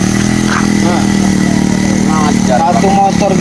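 A motorcycle engine runs steadily and loudly throughout, rising slightly in pitch toward the end, with people talking over it.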